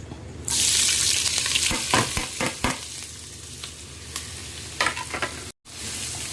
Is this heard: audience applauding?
no